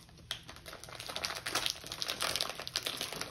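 Crinkly plastic wrapper of a Ukrainian Delicia milk-roll snack being torn open by hand, a close, busy run of crackles and rustles with no talking.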